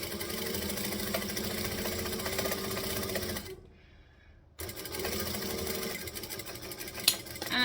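Sewing machine stitching at a steady, fast mechanical rattle, stopping briefly for a backstitch pause before running again; loud and close with no talk.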